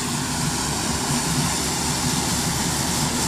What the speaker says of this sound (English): Now what he's doing is he's putting fertilizer on that airplane.